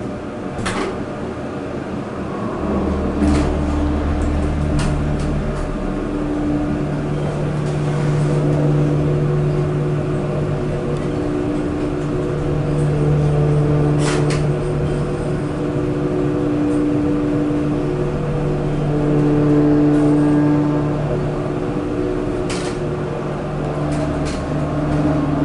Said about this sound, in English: listen to this dry power motor.